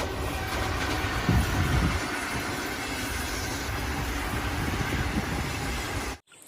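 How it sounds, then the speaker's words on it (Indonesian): A toy train moves fast with a steady, dense rattling rumble that holds for about six seconds before cutting off abruptly. No one speaks. "rupanya kereta api"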